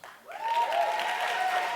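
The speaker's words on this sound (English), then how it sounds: "Clap it up, clap it up, clap it up." An audience at a Black Lives Matter event at De Anza College breaks into applause after a brief quiet moment, a full crowd clapping steadily with a sustained whistle or cheer ringing above it.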